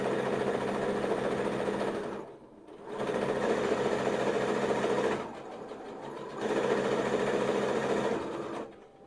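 A sewing machine stitches a spellbag in three sustained runs of fast, even whirring, separated by brief pauses, close and clear.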